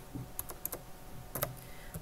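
Faint, light button taps on a calculator, a handful of quick plastic clicks in uneven bursts over a quiet background.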